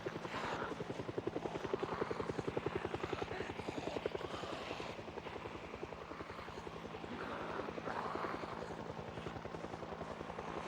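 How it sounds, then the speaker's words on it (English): A helicopter in Project Zomboid makes a low pass overhead, its rotor chopping in a steady, rapid throb that swells and fades slightly while staying loud and continuous throughout. "This should be the last pass of the helicopter"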